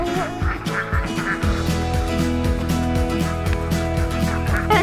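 A group of ducks, including gold star ducks and a Muscovy, quacking loudly and repeatedly in a rapid, overlapping chorus close by outdoors.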